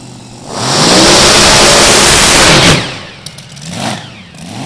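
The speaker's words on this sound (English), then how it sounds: "Here's your number 9 qualifier, Tom Elliott's hot rod." Tom Elliott's hot rod at a Beech Bend drag race roars through a loud, sustained rev lasting about two seconds, then drops back to a rumbling idle with smaller blips, heard close and with no talking.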